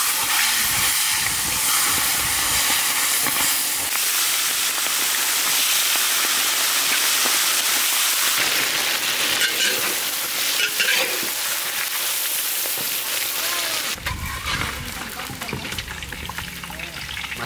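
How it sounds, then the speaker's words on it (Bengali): Fish heads fry in hot mustard oil in a wok, giving a loud, steady sizzle and hiss that carries on for the whole stretch, with the frying changing tone near the end. "এখন আমি মাছের মাথা ভাজবো, তার জন্য কড়াই চাপিয়ে দিয়েছি।"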